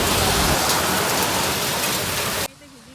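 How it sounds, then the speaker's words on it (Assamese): Heavy rain pours down outdoors in a dense, loud, steady hiss of drops on surfaces, cutting off abruptly near the end as the sound goes quiet. "বাহিৰৰ দৃশ্য চালে এনেকুৱা বৰষুণ দিলে"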